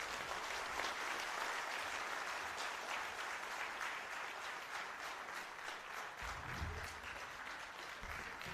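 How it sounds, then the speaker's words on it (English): Faint, steady audience applause fills a Golden Jubilee celebration hall of the Union Bank of India Officers' Association in Karnataka, a dense wash of many hands clapping continuously from start to end with no voices. "I think the applause is little less."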